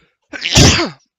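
A single loud, close sneeze from one person during a tabletop fantasy role-playing session, a sharp intake followed by a forceful burst, with silence before and after.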